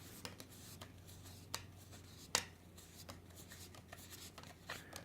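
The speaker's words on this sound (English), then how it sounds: "we count these cards" Game cards being counted on a table during a board game, a quiet run of soft slides, flicks and taps at an uneven pace, close and faint with no speech.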